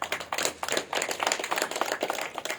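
A meditation audience claps loudly in a brisk, irregular patter of hands, close and dry, with no talking over it.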